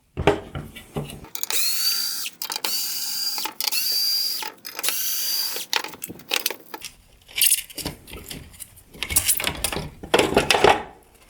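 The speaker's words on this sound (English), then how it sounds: "Next, I'll remove the 4 T15 torque screws holding on the inner light ring." A power driver backs T15 Torx screws out of a 2025-2026 Rivian R1T/R1S headlight. Several short whirring bursts start and stop, separated by clicks and handling noises up close.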